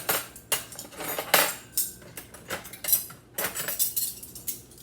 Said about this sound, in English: knife and fork to make it nice and clean